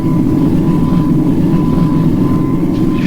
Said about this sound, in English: I should have said that was Supercar's engine.